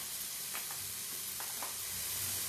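Ginger and garlic spice paste fries on full flame in a quiet, steady sizzle, with a few soft stirring strokes scraping through it.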